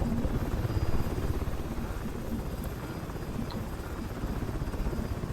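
MH-60L DAP helicopter in War Thunder, heard as a steady, loud rotor thump and engine drone that holds for the whole stretch without a break.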